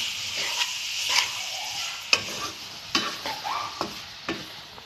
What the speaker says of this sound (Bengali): এই নারকেলের মাখা ছাইটা হাই ফ্লেম থেকে এবারে লো ফ্লেমে করে দেবো। কিছুক্ষণ নাড়তে হবে।